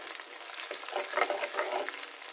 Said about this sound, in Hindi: तो चलिए ये लगा दिया मैंने तड़का